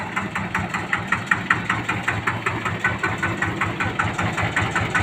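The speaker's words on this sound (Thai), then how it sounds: "พร้อมเครื่องคูโบต้า ET 110เครื่องนิ่มๆครับ" A Kubota ET110 diesel engine idles on a large four-wheeled farm vehicle with a steady, rapid thumping chug. The sound is close and even in rhythm, and it plays on its own without voices.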